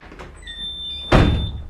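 A door is yanked open with a sudden loud burst of noise near the end, after a quieter stretch of room sound and a faint thin tone.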